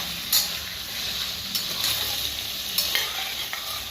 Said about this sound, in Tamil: வாழைக்காய், கத்திரிக்காய், ஐந்து வகையான காய்கறிகள் நல்லா கிளறி விட்டுக்கலாம்.